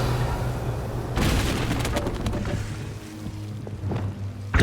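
Revelio spell cast in Hogwarts Legacy, a bright shimmering burst that starts suddenly after a second of low ambient rumble and rings out in layered sparkling pulses over several seconds, with a voice heard faintly near the start.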